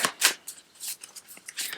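Oracle cards from a Gateway of Light activation deck being shuffled by hand, close and crisp, a run of quick papery riffling swishes in an irregular rhythm with no talking.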